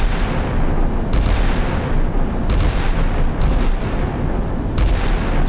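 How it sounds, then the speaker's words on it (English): Guns of the Soviet Sverdlov-class cruiser fire in the naval video game Sea Power. The blasts are heavy and far-off, spaced a second or more apart, and sit over a constant loud roar of wind and sea. "Sverdlov banging away."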